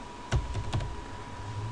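Typing on a computer keyboard while reviewing Ubuntu 14.04: a few quick key clicks over a steady background hum, close and fairly soft, with no speech.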